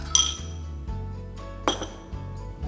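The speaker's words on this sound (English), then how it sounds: "add 1 tablespoon of honey and give it a good stir to bring everything together" A sauce of vinegar, chili oil, soy sauce, garlic and honey stirred in a dish, with a sharp clink of utensil against the rim near the start and another midway, over a low steady background.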